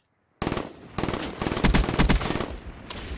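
Rapid automatic gunfire from a video game erupts after a moment of silence, coming in loud, close bursts of shots with short gaps between them and no talking.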